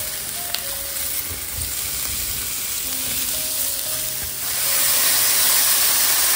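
Mushrooms fry and sizzle in a pan beside rotisserie chicken pieces, a steady hiss with light stirring clicks early on, swelling louder and more intense toward the end, with no talking.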